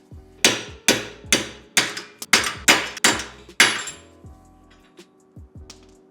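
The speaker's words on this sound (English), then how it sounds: "take a hammer and bang all of these out of here." Seven loud, evenly spaced metallic hammer strikes ringing close by as wheel studs are knocked out of a hub, followed by a few lighter taps and clinks as things settle.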